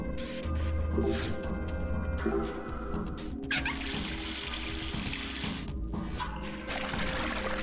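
In the video game Zero Time Dilemma, water gushes and pours over the side of a valve-fed tank, a continuous rushing flow with intermittent bursts of music and effects layered on top.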